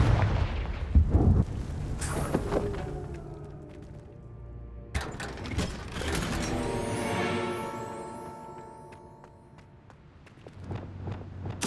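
A blasting spell goes off in the Hogwarts Legacy video game, giving loud booming explosions with crackling bursts and ringing tonal debris that sweep through the scene and fade, then a final hit near the end.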